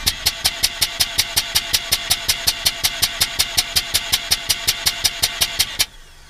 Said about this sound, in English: floor the gas pedal and crank for 5 seconds